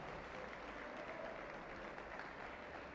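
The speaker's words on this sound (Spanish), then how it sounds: "Dale un aplauso al Señor." Congregation clapping in a church service, a steady, dense wash of applause held throughout at a distance and fairly faint.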